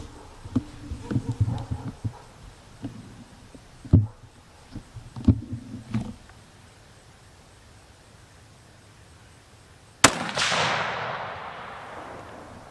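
A Christensen Arms Mesa rifle chambered in 300 PRC fires a single loud, sharp shot near the end, its blast trailing off into a decaying echo after a stretch of quiet handling noises.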